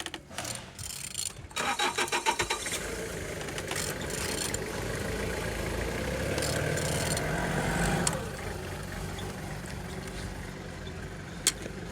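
BMW N46B20A four-cylinder car engine cranking briefly with a rapid stuttering whirr, then catching and settling into a steady idle hum, with a faint click near the end.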